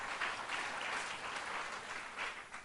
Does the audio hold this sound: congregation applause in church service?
yes